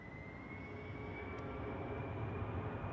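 A jet airplane rumbles at a distance as it takes off from runway 28 at Zurich Airport, a steady low roar with a faint whine on top and no talk.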